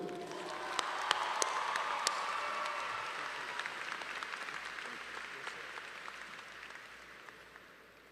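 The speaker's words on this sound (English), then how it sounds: "let's give a big round of applause to one of your greatest advocates, your principal, Mr. Corey Stewart." An audience at a high school graduation ceremony applauds in a steady wash of clapping from a large indoor crowd, with a few sharper claps standing out as it slowly fades.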